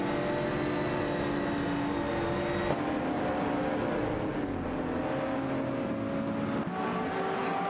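BMW Z4M Coupe GT3 race cars roar in a racing video game, a steady loud engine drone with shifting pitch as the cars accelerate and change gear, continuous and without talk.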